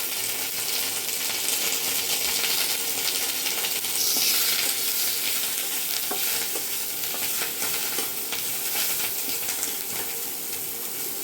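Fresh curry leaves crackle and sizzle loudly in hot oil while a spoon stirs them, producing continuous close frying with scattered scraping taps.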